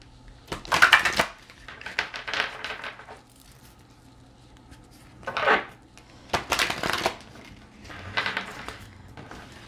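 Tarot cards handled and shuffled at close range: irregular bursts of papery riffling and slapping against a surface, with short quiet gaps between, and no voice.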